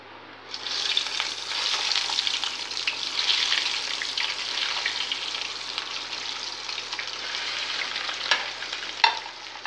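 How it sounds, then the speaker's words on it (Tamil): Four or five potato balls drop into medium-hot oil for deep frying, and a dense, even sizzle starts within the first second and holds steady and close throughout, with a few louder pops near the end. "இப்போ உருண்டையை நம்ம போட்டு பொரிச்சு எடுத்துருவோம்."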